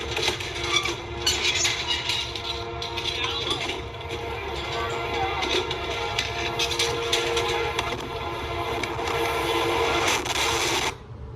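A train arrives with a loud, continuous roar of rumbling and clanking machinery, a horn sounding within it, before cutting off abruptly near the end.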